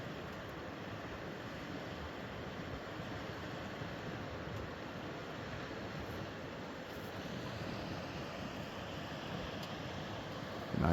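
Steady rushing whitewater from rapids on a creek near the St. Joe River in Idaho, a constant broadband roar heard from some distance, faint and unbroken with no voices.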